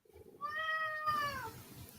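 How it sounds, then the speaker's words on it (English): A domestic cat gives one clear, drawn-out meow that rises and then falls, fairly close and faint, set against a quiet background. "Oh, that'll be my cat."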